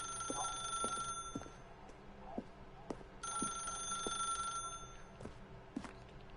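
A telephone rings in The Stanley Parable, two bursts of bright electronic trilling separated by a pause, fairly quiet, with faint footstep-like clicks scattered around the rings.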